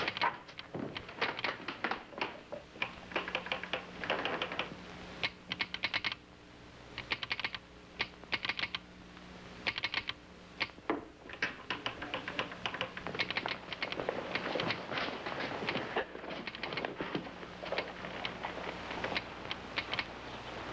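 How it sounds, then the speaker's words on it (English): Telegraph keys clatter out a message in a 1961 western film, with rapid bursts of sharp mechanical clicks separated by short pauses that run on for a long stretch, and no talk over them. "Those telegraph keys were reading out the words Big 50."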